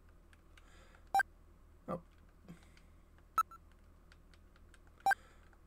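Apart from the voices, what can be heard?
video phone number dialing tones in Snatcher video game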